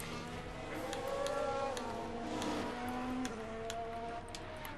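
Formula One cars in the F1 Manager 22 racing game run steady engine tones, several pitched lines sliding slowly up and down together for a few seconds as the cars warm their tyres, continuous and fairly loud, with no talk.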